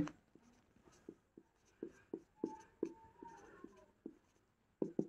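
Chalk or marker strokes writing a math formula on a board during a Bengali algebra lesson, a series of short scratchy taps and strokes in an irregular rhythm, close and fairly quiet, with no talk.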